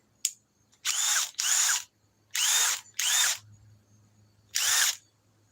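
A Bosch power drill whirs in five short bursts of a second or so each, separated by quiet gaps, with a faint low hum underneath, close and clear.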